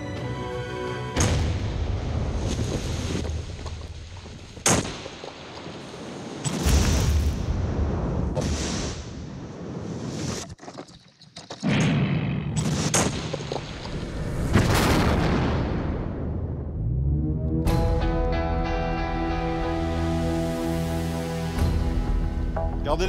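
An explosive charge detonates at an illegal mining site in the tropical forest of French Guiana, a series of deep, loud booms and rumbling blasts with debris noise and roaring aftermath over about twenty seconds.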